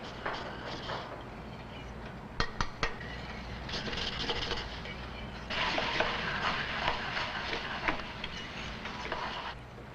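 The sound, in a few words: egg being moved around in an omelet pan on a griddle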